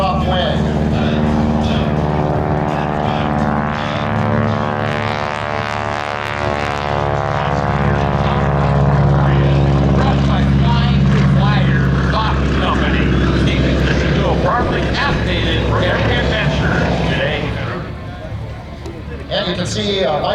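Propeller biplane making low flat passes at the Abby Air Show with a wing walker on top, its engine droning loudly and swelling as it passes, while a commentator talks throughout.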